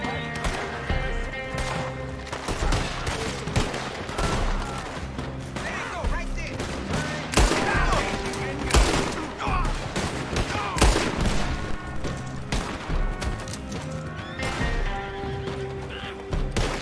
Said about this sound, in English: you guys do all the shooting